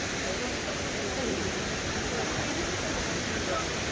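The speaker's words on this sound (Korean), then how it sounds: "봉래 폭포입니다" Bongnae waterfall on Ulleungdo, a multi-tiered cascade, pours in a steady broadband roar with no pauses, loud and even throughout.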